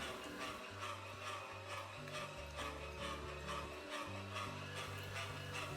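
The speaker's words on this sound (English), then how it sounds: "For this first grind, I ground everything up, both pork and venison, with the largest plate." Meat grinder working pork and venison through its largest plate, a steady close mechanical grinding and rasping with a low, rhythmic motor hum that shifts pitch as the load changes.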